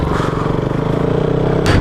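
A motorcycle engine drones steadily and loudly up close while riding an off-road mountain road, with a brief rattle near the end.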